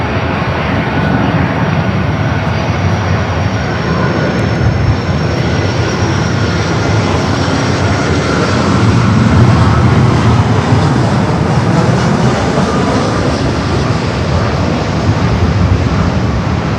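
A KLM airliner on runway 24 left at Los Angeles airport gives a steady, loud, broadband engine roar that holds for the whole stretch without letting up, with no voices.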